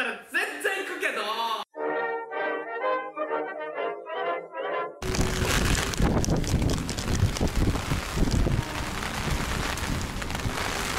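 Heavy rain and gusting wind at Tokyo Disneyland: voices come first, then a dense, steady roar of downpour and wind rushes in and holds loud for the rest.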